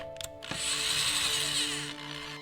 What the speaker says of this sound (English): drilled the necessary hole